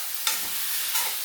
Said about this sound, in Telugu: అది వేగిన తర్వాత కలిపేసుకొని